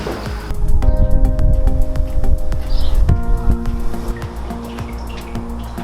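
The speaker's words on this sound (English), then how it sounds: "I gotta add a little bit of water to make sure that skull plate's" Water is poured into a pot where a skull plate is being boiled, giving a close, loud splashing fill with dripping and liquid gurgles throughout, alone with no talk.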